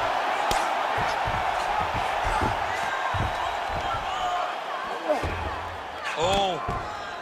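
An arena crowd roars and murmurs steadily in a UFC video game simulation of a Saudi Arabia fight night, with scattered thuds and swelling cheers.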